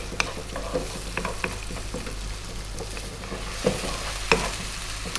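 Onion and garlic fry in a pan, a steady sizzle with scraping stirs and a few sharper clatters of the utensil against the pan, close and alone.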